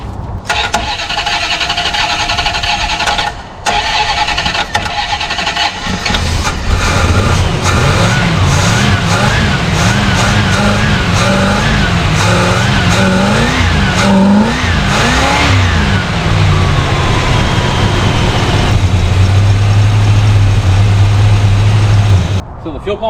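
A rare 1974 Plymouth that had sat for 20 years cranks, catches and starts, revs a few times, then keeps running loud and near with a rough, uneven engine note, and someone talks over it.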